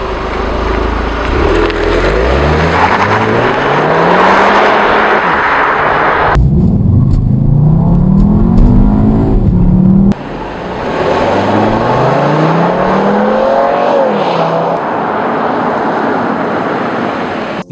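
A Volkswagen Beetle TDI engine in the video game Need for Speed Edge revs through repeated rising gear sweeps, loud and continuous. There is a brief shift in tone partway through before the climbing revs resume.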